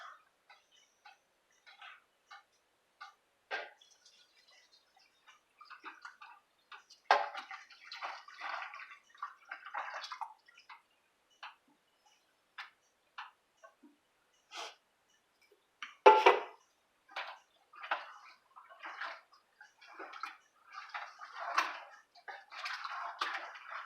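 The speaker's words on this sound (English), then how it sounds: "add in a can of tomato juice" A can of tomato juice glugs and splashes into a cooking pot over medium-high heat in irregular gurgling bursts, fairly faint and spread across the clip, with quiet gaps between the pours.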